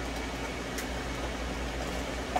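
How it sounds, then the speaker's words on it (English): A hair dryer drying a dog after its bath gives a steady, even whooshing roar throughout, with no change in level and no talking. "Now I'm going to dry him with the hair dryer."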